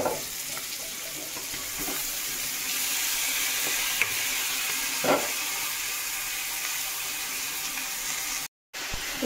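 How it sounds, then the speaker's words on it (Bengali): Cabbage sizzles in hot bhetki fish oil, a steady soft hiss and crackle close by, with a few brief stirring clinks and a short cut near the end. "এবার বাঁধাকপিগুলো দিয়ে দেবো।"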